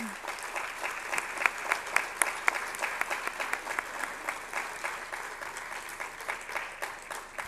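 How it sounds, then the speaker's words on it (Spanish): Applause from an audience at a pastoral conference session, many hands clapping with distinct sharp individual claps standing out, fairly close and sustained for several seconds before tapering slightly. "A esos aplausos para esa María."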